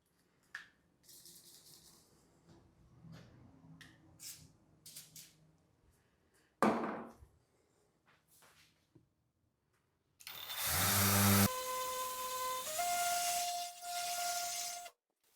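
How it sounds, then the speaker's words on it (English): A random orbital sander with 220 grit paper works WD-40 over a rusty table saw top, giving a loud, steady whirring hiss for several seconds after quieter handling noises. "using that WD-40 paired with my random orbital sander, and that was 220 grit sandpaper on there"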